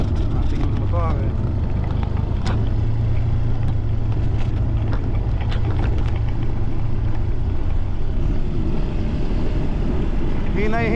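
A motorcycle heads downhill on a red dirt road, its engine a steady low rumble mixed with wind buffeting the microphone as the rider talks over it.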